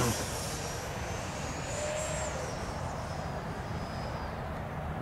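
A model Avro Vulcan jet aircraft flies overhead, its engine making a continuous broad rushing whine with a shifting high tone, steady and moderately distant throughout.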